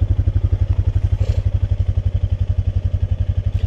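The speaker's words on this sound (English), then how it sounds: "So that was a 2017 Honda Pioneer 500" A 2017 Honda Pioneer 500 Mud Pro side-by-side engine runs close and loud with a fast, even, throbbing idle-like chug that holds steady throughout.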